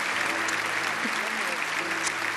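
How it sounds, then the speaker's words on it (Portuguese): A congregation at a Baptist church service applauds in a thick, continuous wash of clapping, steady and full throughout, with faint voices underneath. "Vamos aplaudi-las"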